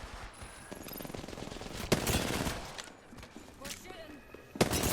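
Bursts of gunfire in a shooter game, sharp cracks and rattling volleys over a busy mix, with people talking throughout.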